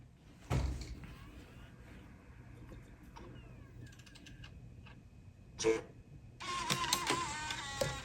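A PowerPC Mac CD drive ejects a scratched disc, giving a sharp mechanical clunk, a spell of quiet whirring and ticking, another brief clack, then a louder sustained buzzing grind of the tray and motor close by.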